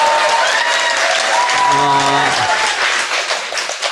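A young crowd at a university, Hanshin University, cheers and applauds in a dense, loud, continuous wash of clapping and shouting, with a speaking voice rising briefly through the middle.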